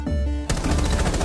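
Gunfire from the tactical shooter Rainbow Six Siege: a loud, rapid automatic burst that starts abruptly after a quiet moment and rattles steadily close up.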